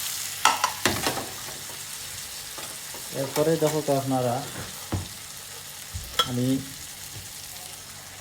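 Chicken and onions frying in a pot for Siraji handi murg, a loud continuous sizzle and stirring while someone talks over it.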